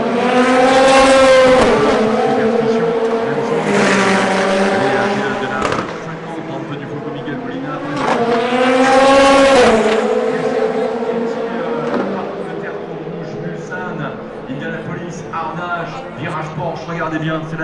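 Ferrari 499P prototype race car at the Le Mans Centenary 24-hour race, its loud engine roar sweeping past twice in strong surges, with a crowd and a commentator's voice audible throughout.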